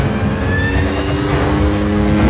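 A stunt motorcycle engine revs loud and close for a cinema stunt, a continuous rising and falling roar with a buzzy, harmonic-rich tone and no pauses.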